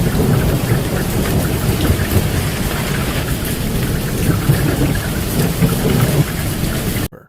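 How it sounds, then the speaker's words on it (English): Hail pelting down during a storm over barren desert, a steady loud dense patter of falling ice with a thunderous rumble beneath, continuous and close, cutting off abruptly at the end. "pea-sized ice flakes fall among the barren desert"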